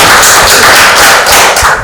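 An audience applauds a recited Urdu couplet at a Pakistan Independence Day family gathering, a dense, loud burst of many hands clapping continuously for about two seconds.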